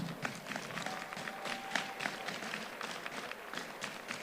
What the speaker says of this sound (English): we give them thanks and we give them applause for all of those who've gone on.